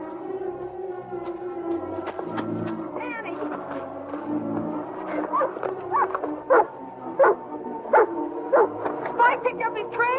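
A dog barks repeatedly in short, sharp bursts that grow more frequent toward the end, sounding fairly close and mixed with a wailing, howl-like tone and background film sound.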